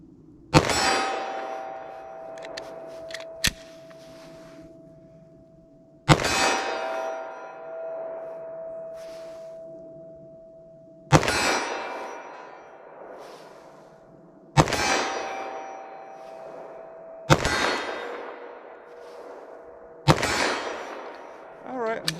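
Six sharp 10mm pistol shots of Buffalo Bore lead-free ammunition, fired with a short barrel at 25 yards, ring out loud and close, spaced a few seconds apart. Each crack leaves a metallic ring and an echoing decay.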